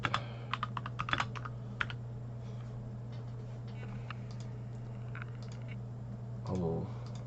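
Close, fast typing on a computer keyboard, with a dense burst of clacks at first and then sparser scattered key taps over a steady low hum.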